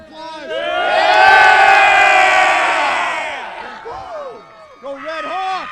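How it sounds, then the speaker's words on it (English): A crowd cheers and whoops loudly at a high school football halftime trophy presentation for the Milton High School Red Hawks, swelling then easing, with a voice speaking near the end. "Give yourself a round of applause."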